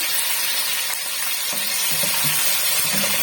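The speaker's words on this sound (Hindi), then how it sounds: "इसे 2 से 3 मिनट अच्छी तरह से हम भून लेंगे गोश्त को और नमक को।" Chicken with salt frying in a pot for degi aloo gosht, a loud, steady close sizzle with faint stirring scrapes underneath and no voices.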